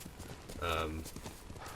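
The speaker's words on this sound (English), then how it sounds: "You don't have to actually go around and find a horse now, you can just summon it to you." Horse hooves clip-clop in Ghost of Tsushima, a quiet brief patter of steps under someone talking, with a short faint whinny-like tone mid-way.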